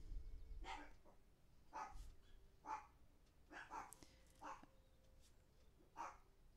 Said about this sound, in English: I apologize about the dogs.